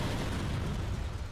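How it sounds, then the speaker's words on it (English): A bomb blast in an animated Skibidi Toilet episode, a dense, rumbling explosion that fills the short moment at steady loudness, heavy in the low end, with no one speaking over it. "Drop the bomb, Ski!"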